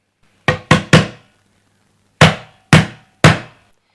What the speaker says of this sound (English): someone knocked on the door hard and almost broke it